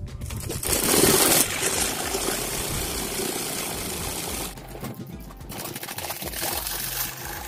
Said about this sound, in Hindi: अब हम इसको स्टिच कर लेते हैं पूरा, यहाँ से स्टार्ट करते हुए नीचे लेके जाएंगे।